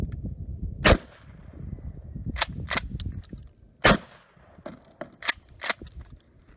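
Mossberg 590M magazine-fed shotgun firing double-aught buckshot at a broken flat-screen TV seven yards away outdoors: two loud, sharp blasts several seconds apart, each followed by several lighter sharp cracks and clicks.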